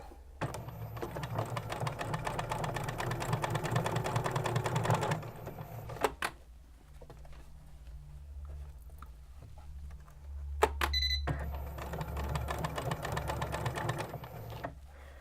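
A sewing machine stitches a sleeve cuff in two steady, rapid bursts, running for about five seconds, pausing briefly, then starting again near the end. The whirring mechanical hum is close and clear, with no talking.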